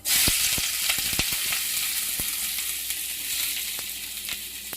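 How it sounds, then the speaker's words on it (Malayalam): Shallots sizzle and crackle steadily in hot coconut oil, with a few sharp pops and spatters and no talking. "വെളിച്ചെണ്ണ ചൂടായി കഴിയുമ്പോൾ നമ്മൾ ചുവന്നുള്ളി ഇടണം കേട്ടോ."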